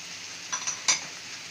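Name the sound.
stirring chicken pasta sauce with vinegar, chili and cumin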